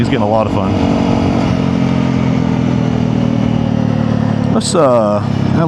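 A Honda CRF300L dual-sport motorcycle with a Yoshimura full exhaust drones loudly and steadily, pitch rising in sweeps as it accelerates through the gears, with close wind rush throughout.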